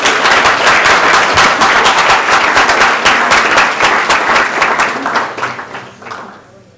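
Audience applause following a talk: dense, loud clapping from a crowd that carries on strongly for several seconds and then tapers off and fades out near the end.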